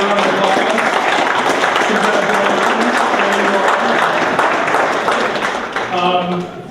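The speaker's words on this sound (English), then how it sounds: "A round of applause." A crowd at a university inter-campus competition applauds loudly and continuously, with voices and cheers mixed in, the clapping thinning slightly at the close.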